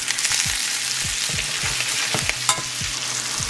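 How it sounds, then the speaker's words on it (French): Butter hits a hot pan and sizzles steadily while a utensil stirs and scrapes in quick repeated strokes, close and fairly loud, with no one speaking. "Là, je vais rajouter encore du beurre."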